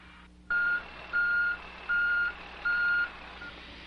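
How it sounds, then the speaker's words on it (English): A road grader's reversing alarm sounds four even, steady beeps at a regular pace over a low engine hum, clear and moderately loud. "Making sure that graders have the required warning lights, placards, and alarms."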